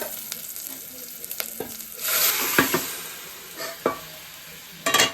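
Greens curry masala frying in a pan for a leafy greens curry, with a steady sizzle and several sharp stirring scrapes and knocks that swell into a louder burst of frying midway, no voices.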